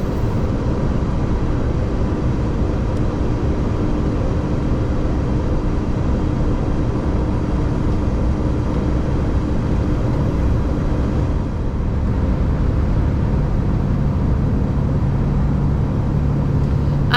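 A lorry drives along a road near Benidorm, heard from the cab as a loud, constant engine and road rumble that holds steady throughout.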